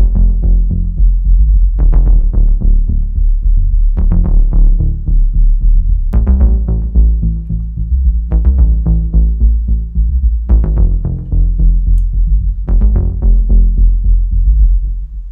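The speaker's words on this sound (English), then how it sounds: "So it's quite synthy, this particular sound set, the Dusk." Dark, moody synth music from the Nordsund Dusk sound set: a deep, throbbing low drone with pulsing bass hits and sharp attacks recurring every couple of seconds, loud and sustained with no voices.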